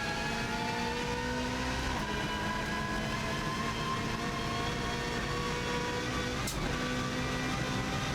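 Race car driven fast over the bumpy Ginger Hall to Ramsey section of the Isle of Man TT course, a steady loud engine drone with tonal whine running throughout and a brief jolt near the end.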